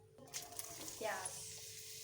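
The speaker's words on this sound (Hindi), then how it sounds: "और फुल फ्लेम पे हम इनको फ्राई करेंगे।" Onions fry in ghee in a pan over full flame, a steady close sizzle with a brief stirring rustle partway through.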